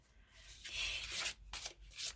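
Matte cardstock oracle cards being shuffled up close, quiet, with two or three soft riffling bursts separated by brief pauses and no voice.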